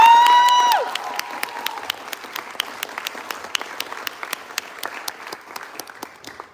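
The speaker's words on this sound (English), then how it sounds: "Let's give them one more round of applause." At a middle school promotion ceremony, the audience bursts into applause, with a shrill whistle or cheer at the start, then thins to scattered, sharp individual claps that fade out.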